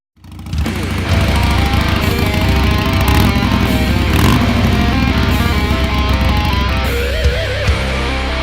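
A motorcycle on a ride, its engine droning loud and steady from start to finish with strong low rumble, close to the rider, like a motovlog recorded in motion.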